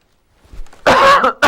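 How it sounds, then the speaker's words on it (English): A close, sharp cough in two quick bursts following a moment of quiet, with nothing else around it. "just a little cough"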